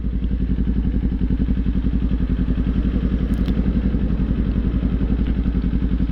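Kawasaki Z400 motorcycle engine while riding on the road, a loud, close, steady pulsing drone with rapid even firing beats that holds for the whole stretch, no talk.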